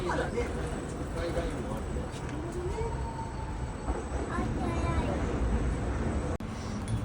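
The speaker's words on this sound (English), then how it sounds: "There's the tram." A Toden Arakawa streetcar runs through Tokyo, giving a continuous rolling rail rumble with light rattles and a sharp click near the end, mixed with street ambience and possible faint voices.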